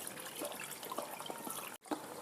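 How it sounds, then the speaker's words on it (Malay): Tap water trickles and splashes steadily while beef is rinsed by hand for a beef noodle soup stock, a quiet, close, continuous wash with a brief break near the end. "saya cucikan daging ni"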